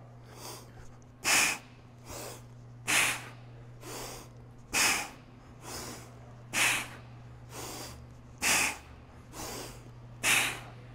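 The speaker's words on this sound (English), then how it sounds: "Breathe out at the bottom, breathe out at the top." Sharp, forceful exhalations through the nose and mouth during kettlebell bottoms-up goblet box squats, about ten evenly spaced close puffs over a steady low hum, with no talk.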